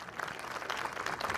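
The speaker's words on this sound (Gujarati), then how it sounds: "વધાવો જોરદાર તાળીઓથી" Audience applause at a community get-together, a brief burst of dense clapping from a crowd at moderate distance.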